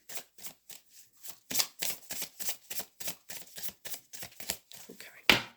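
A deck of oracle cards is shuffled by hand in a quick run of crisp riffling bursts, close and clear, with a short pause partway through.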